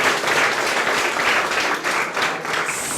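School students applaud together in a classroom setting, a dense burst of clapping that stays loud for a few seconds before tapering slightly.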